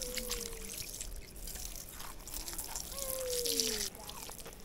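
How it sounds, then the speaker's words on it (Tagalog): Water is poured into a cooking pot for a seafood soup at an outdoor wilderness campsite, making a steady splashing pour over a noisy outdoor background with faint distant voices. "Lagyan mo na ng tubig. Pangsabaw da, pangsabaw."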